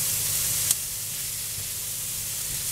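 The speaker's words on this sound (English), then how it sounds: "So you'll saute these for about 2 minutes" Chopped apples sautéing in a pan give a steady, even sizzle at moderate level, with a single faint click near the start and no voices.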